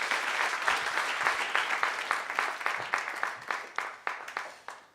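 Audience applause at an awards ceremony, a sustained wash of clapping from a crowd that thins toward the end into scattered individual claps.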